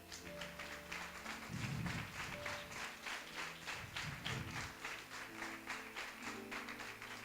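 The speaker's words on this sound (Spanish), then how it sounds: "¿Cuántos le dan un aplauso al Señor?" A church congregation applauding during a service, a faint, rapid patter of clapping that runs throughout, with low murmuring and tonal background sounds underneath.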